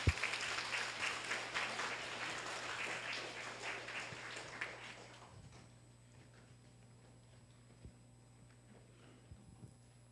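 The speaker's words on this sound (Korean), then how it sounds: "박수 부탁드립니다." Applause at a Gwangju University student awards ceremony, steady clapping from the audience for about five seconds that then fades into quiet room tone with a few faint knocks.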